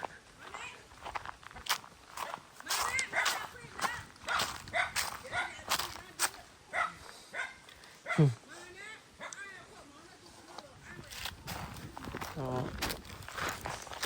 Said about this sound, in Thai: หมาก็เห่าเนี่ย เพิ่งจะเจอกันเมื่อสักครู่เองก็เห่าใส่กันละ